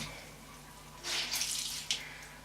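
Tap water runs briefly into a sink while a face is washed with a wet washcloth, a soft close splash lasting about a second amid quiet room hum.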